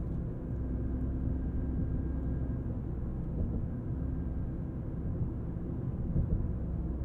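A 2023 Toyota GR Corolla with turbocharged engine drives along, a steady low rumble of engine and road noise filling the cabin without much change in pitch.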